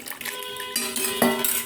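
Grapes, cooled after cooking, tipped into a steel mixer jar for a grape lemon juice, giving a few close clinks and rattles against the metal, short and alone without talk.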